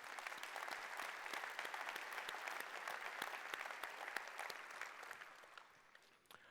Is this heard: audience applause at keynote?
yes